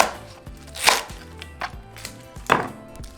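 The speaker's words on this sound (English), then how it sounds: "And now for our cilantro, I'm just going to cut it." A knife cuts fresh cilantro on a board in a home kitchen, making a steady series of crisp, close chopping taps, about two per second, heard alone.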